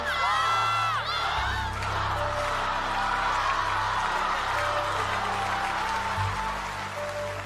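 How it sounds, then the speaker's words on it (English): A television talent show crowd on The X Factor Australia roars, screams and claps, loud at first, then settling into sustained cheering and applause that fills the arena. "The audience is screaming swap."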